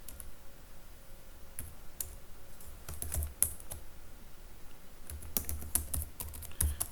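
Keys on a computer keyboard clatter in quick, uneven bursts of soft clicks, close and fairly quiet, while code is being written, with pauses between runs of typing.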